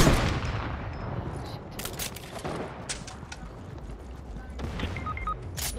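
Rapid gunshots crack out in Fortnite, sharp reports mixed into a busy fight with some closer, louder shots among fainter ones.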